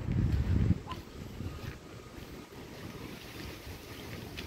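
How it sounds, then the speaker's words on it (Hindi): Cold wind blows hard in a residential colony, a loud rumbling gust at first that settles into steady buffeting wind noise with no talk. "बहुत ही ठंडी हवा चल रही है।"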